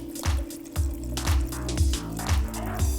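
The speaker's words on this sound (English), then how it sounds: "I'm going to add a dash of orange liqueur and top the whole lot off with some soda water." Soda water poured into a jug of white wine with orange liqueur, topping up a spring drink at a cooking demonstration: a steady fizzing pour with a rhythmic glugging pulse about twice a second, close and clear.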